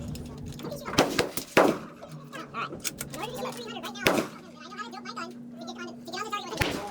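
Rifle shots at an outdoor shooting range, a few sharp loud cracks spaced a few seconds apart, with people talking quietly between them and a steady low hum underneath.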